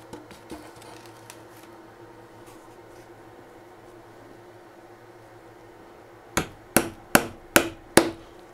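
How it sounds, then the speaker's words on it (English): A hammer drives a wooden dowel into a basic bird feeder with the piece backed from underneath. Five sharp, evenly spaced blows come near the end after faint knocking and quiet handling, with no speech. "You're going to be pounding on that a little."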